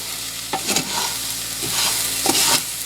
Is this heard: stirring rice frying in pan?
yes